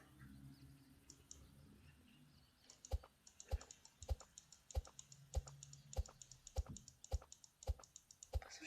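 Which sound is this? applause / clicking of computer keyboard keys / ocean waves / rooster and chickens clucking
clicking of computer keyboard keys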